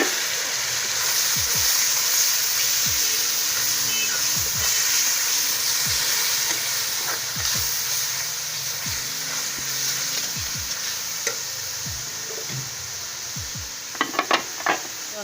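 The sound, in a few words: tomato paste added to sizzling spices and stirred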